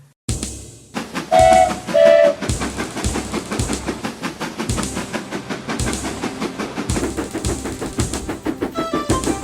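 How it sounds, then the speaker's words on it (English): Steam locomotives haul along rails with a fast, rhythmic chuffing and clickety-clack that carries on throughout, close and loud, with two short whistle blasts near the start. "And Donald and Douglas, puffing hard, managed to haul Thomas back to the yard"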